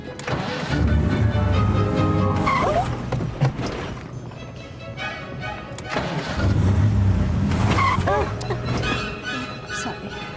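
A car engine starts and runs with uneven, lurching revs while people talk over it in the car.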